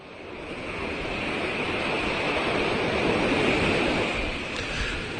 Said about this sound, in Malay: Ombak pada malam tersebut agak kedengaran kuat